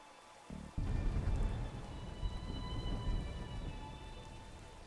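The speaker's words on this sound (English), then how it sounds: "the rain stops as soon as we're finished walking in it" Steady rain falling in a stormy outdoor scene by a manor in the Darkside Detective video game, a constant dense hiss with a low rumble that swells in after a brief quieter moment and continues throughout.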